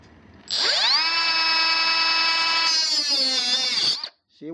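A Milwaukee M12 FUEL 3-inch compact brushless cordless cut-off saw cuts into aluminum, a loud high-pitched whine that rises as the blade spins up, then shifts in pitch as it bites into the metal before stopping abruptly.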